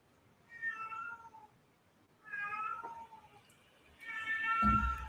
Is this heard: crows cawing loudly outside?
no